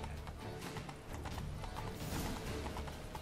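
Horse hooves clip-clopping in The Witcher 3 video game, a steady rapid rhythm of hoof falls over a dense, loud game soundscape, continuous throughout with no talk.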